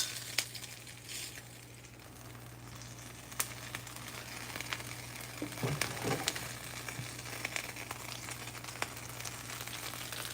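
Chicken fries in a hot pan, a steady close sizzle with occasional clatters and stirring scrapes over a low hum, heard alone without talk.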